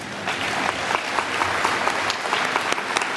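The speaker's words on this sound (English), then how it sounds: "please join me in another round of applause for our entire 2011 class of Certificate of Distinction Award recipients" An agricultural alumni fish fry audience applauds the 2011 Certificate of Distinction Award recipients, a continuous even round of many hands clapping with occasional sharper individual claps standing out.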